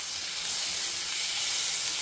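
Garlic and a small tomato cook in a pan with tamarind, making a soft, steady, close hiss and sizzle with no talking.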